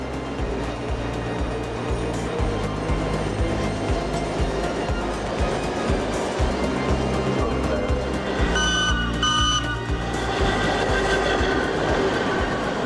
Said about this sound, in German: Hier ein E3-5 der letzten Lieferserie im Bahnhof Tierpark